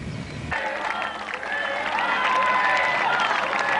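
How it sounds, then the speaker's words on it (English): A roadside crowd cheers and claps for riders climbing a long uphill finish straight at the 1991 Tour DuPont stage race, the noise swelling after a half second and holding as a broad sustained roar with a commentator talking over it. "As Graywall hears the crowd's encouragement up the final straightaway"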